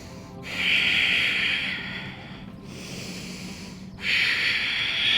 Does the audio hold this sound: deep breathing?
yes